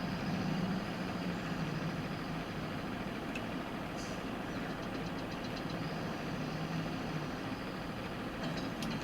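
A yard tractor's engine idles and runs steadily in Farming Simulator 22, a continuous low rumble with a faint knocking texture and a few light clicks over it, heard at moderate distance with no talk.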